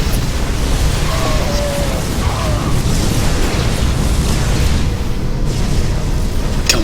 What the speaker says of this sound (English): Oh, those Widow Mine hits.